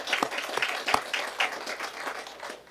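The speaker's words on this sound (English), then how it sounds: "Let's give Veronica a round of applause." A small gathering at a city council session claps for an award recipient, with a scattered, fairly sparse round of individual claps rising and easing over a couple of seconds.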